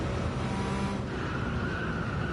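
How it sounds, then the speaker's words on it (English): Race car tires screeching in Gran Turismo 7 hypercar racing, a sustained engine roar with a thin tonal squeal of tires running through it, loud and continuous. "You can hear the tires screeching."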